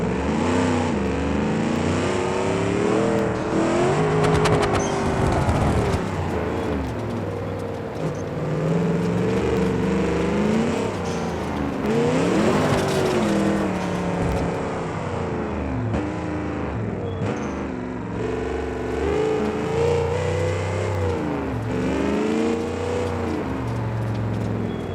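A 6x6 truck in BeamNG revs and accelerates hard under heavy throttle as its turbo boost kicks in, giving a loud, continuous engine roar that rises and falls in pitch.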